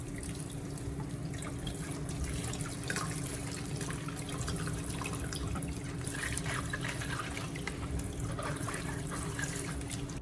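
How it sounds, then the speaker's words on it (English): Tomatoes rinsed under a running tap: a steady, moderately loud stream of water splashing and trickling in a sink for about ten seconds, with no speech. "Continue rinsing them under running water to make sure they are completely clean before cooking."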